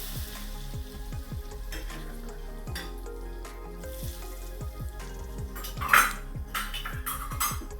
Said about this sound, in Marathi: चम्मचने मिक्स करून घ्यायचं गरम असल्यामुळे चम्मचने अगोदर मिक्स करून घ्यायचं